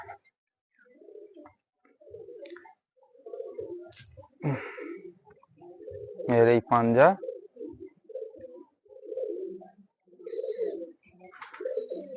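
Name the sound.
pigeon cooing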